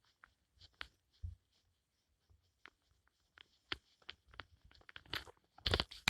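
Eraser rubbing out writing on a board during a physics lecture, with quiet scattered scrubbing strokes and taps that grow denser and louder toward the end.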